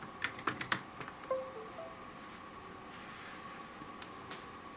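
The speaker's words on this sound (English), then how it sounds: "Typing feels great, spacebar works perfect." Typing on a Redragon Parvati K591 low-profile mechanical gaming keyboard, a quick burst of sharp close clicks at the start followed by a few isolated keystrokes over a quiet room hum.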